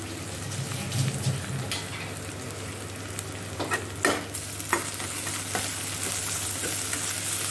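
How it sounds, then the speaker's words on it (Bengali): Garlic paste and ginger paste with green chillies sizzle steadily in a hot wok over high flame, a continuous close crackle with occasional sharper stirring scrapes. "এবার আমি ফ্লেমটাকে একটু হাই করে দিয়ে এর মধ্যে দিয়ে দেবো একে একে রসুন বাটা, আদা বাটা"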